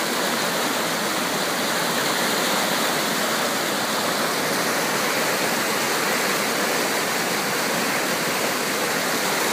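Floodwater rushes through a normally dry backyard creek dammed by a fence, producing a loud, steady, broadband roar throughout with no voices.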